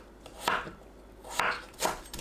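Three crisp knife strokes chop a potato into half-moon slices on a cutting board, each a sharp close thunk with a brief pause between, faint and isolated against a quiet room.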